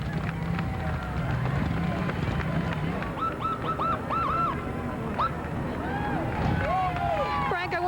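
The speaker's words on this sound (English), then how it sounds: "we'll just let you listen and just enjoy this crowd" A large crowd at the 1991 Cal Ripken parade in Baltimore keeps up a steady roar of cheering and babble, with whoops and shouts rising above it throughout.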